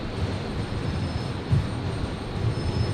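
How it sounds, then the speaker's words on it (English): A Qantas airliner, flight 629, departs Brisbane airport, its engines a steady broad roar held at a distance throughout, with no voices over it. "So that's Qantas 629 there being cleared for departure."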